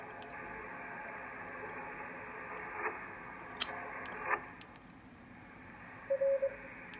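A weak radio station is heard through a Yaesu SM-5000 station monitor set to loudness, as a steady band-limited hiss of static with faint signal buried inside and a few brief clicks.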